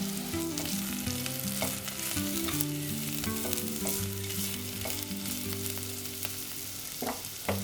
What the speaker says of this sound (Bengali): কড়াইতে তেল দিয়ে আদা আর লঙ্কা কুচিগুলো আমি দিয়ে দিয়েছি